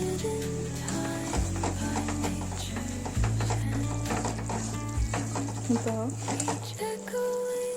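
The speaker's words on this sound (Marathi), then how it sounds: "आपण इथे थोडीशी मोहरी, थोडेसे जिरे आणि हा मसाला परतून घेणार आहोत।" Mustard seeds, cumin and masala sautéing in oil for chivda, heard as a steady sizzling crackle with stirring sounds, while a persistent low hum and tonal background sounds run underneath.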